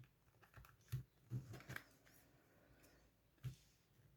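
Tarot cards from a Purple Tarot deck being cut and shuffled, heard as a few soft, close papery taps and slaps spaced irregularly, with quiet pauses between them and no talking.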